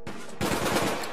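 Rapid automatic gunfire from the online shooter APB Reloaded, a short burst that starts abruptly and rattles loudly and close for under a second.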